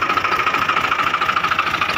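A diesel tractor engine idling, with a roof fitted and a sound engine and diesel pump, giving a close, steady rhythmic chugging with regular low pulses over the short stretch.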